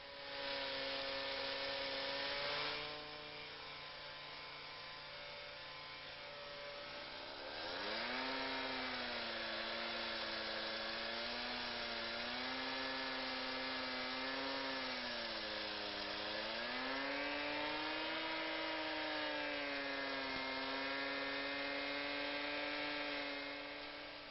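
Hydraulic saw cutting into a concrete block, a loud steady whining drone close by that rises and falls in pitch as the blade loads and frees up, with no speech.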